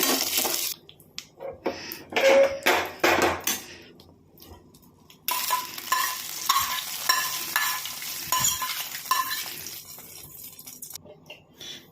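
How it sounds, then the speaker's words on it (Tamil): Mustard seeds, cumin, two dried chillies and curry leaves spluttering in hot oil as tempering for pineapple pachadi: loud crackles and clinks of a spoon against the pan, then a sustained sizzle as it is poured in, fading out at the end. "இப்போ தாளிப்பு எடுத்து இந்த பச்சடியில் போட்டுருவோங்க"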